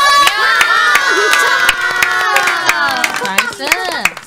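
Sharp, irregular claps ring out over loud, excited Korean voices and cheering during a Minecraft game, a small group clapping close by amid lively shouting.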